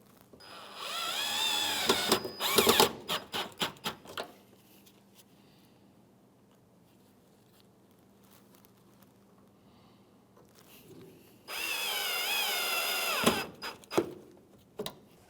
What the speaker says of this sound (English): now we can reinstall our 2 Phillips screws